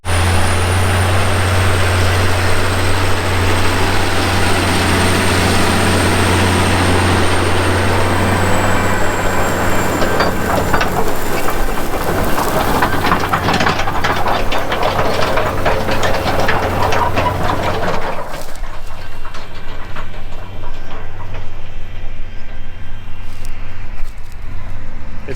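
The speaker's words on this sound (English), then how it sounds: "Now to go and see the sort of job that this ripper's doing on all these messy tram lines." Tractor pulling a ripper through a field over messy tram lines: a steady, loud engine drone with a constant low hum, plus rattling and clanking from the ground work that grows rougher later.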